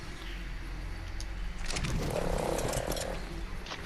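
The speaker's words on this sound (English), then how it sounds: "See how a frog can do underwater." A frog in the video game ARK: Survival Evolved croaks in a low, rough burst over constant ambient noise, fairly faint and alone without talk.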